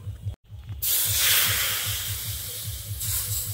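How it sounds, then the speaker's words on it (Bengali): Milk poured into a hot wok still coated with leftover kheer sets off a sudden loud, steady sizzling hiss after a brief gap, with a low rhythmic thumping running underneath the whole time. "এখন এই কড়াইতেই আবার দুধ দিয়ে দেব।"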